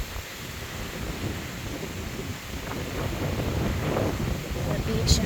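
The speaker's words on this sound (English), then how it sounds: "Today is windy." Wind blows steadily across a beachfront at a Cozumel resort on a blustery October day, a continuous broadband rush with gusting, rumbling microphone buffeting that swells slightly toward the end.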